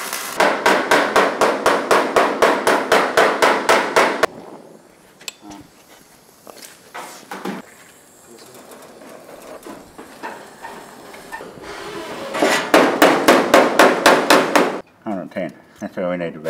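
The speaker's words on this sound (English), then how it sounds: "we'll hammer them up and hammer them out." Rapid, loud metal hammer blows ring out in quick bursts while shaping body panels on a 1936 Terraplane coupe, with a quieter stretch of shuffling, clanks and voices talking between the two hammering runs.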